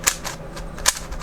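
A 6x6 speed cube being turned gives quick, sharp plastic clicks and snaps in a short uneven burst, with two louder clacks standing out over a quiet background.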